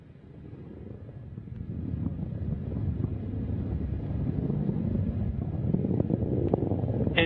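A rocket's first-stage engines roar during launch as a broad, distant rumble that grows steadily louder and rougher, with wind buffeting on the microphone.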